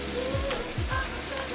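Potatoes searing flat side down in a hot wok give a quiet, steady sizzle with small crackling pops throughout, and no voices.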